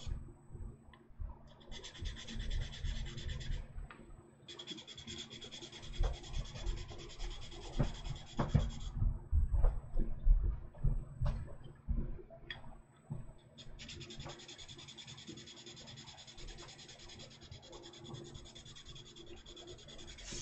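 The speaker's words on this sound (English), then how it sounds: "So now let's switch to the sanding block." Close, scratchy strokes of a sanding block flattening a part of a Gunpla model kit, rubbing back and forth in uneven bursts with short pauses between passes.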